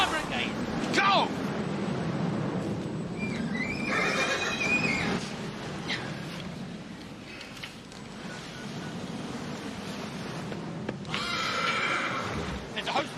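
A horse whinnies and neighs amid shouting near a farm fire, with loud agitated voices, clattering and rustling throughout and a sharper squeal near the start and end.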